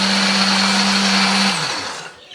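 An electric blender grinds a spice paste of red chili, shallot, turmeric, pepper and coriander with a little water, whirring loud and steady before the motor cuts off and spins down to quiet.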